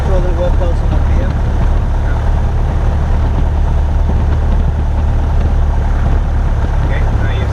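Light airplane engine idling at 1000 RPM, a steady low droning rumble that runs continuously and loudly throughout, with a pilot's voice talking over it.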